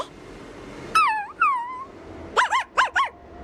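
A dog character in the video game Honkai: Star Rail gives two high, gliding whimpering yelps, then a quick trio of bright, wavering yips, close and clear over a quiet background.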